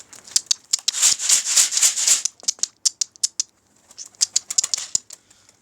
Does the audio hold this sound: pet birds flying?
yes